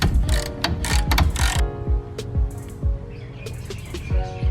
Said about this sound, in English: I'm going to stick my ratchet in here and take out the old drain plug.